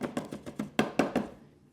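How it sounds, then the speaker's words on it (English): A knife finely chopping ginger on a board, a quick run of about eight crisp close taps in a steady rhythm, then a short pause. "then we're going to finely chop that as well"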